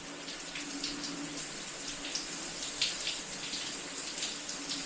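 Water from a U by Moen smart shower runs as a steady broad hiss with slight fluctuations, close and fairly quiet, with no voices.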